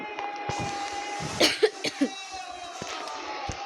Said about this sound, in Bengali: গাছ আমি একটু কাশি আসছে